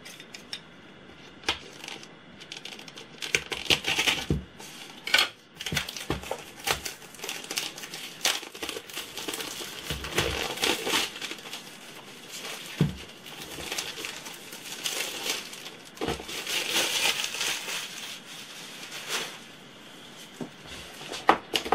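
Packaging is torn and unwrapped from a new planner kit, with close, irregular crinkling, rustling and sharp snaps of plastic and paper throughout, no talk.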